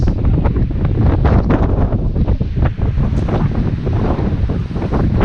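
Strong wind roars and buffets loudly against the microphone in continuous gusts, with no voices present.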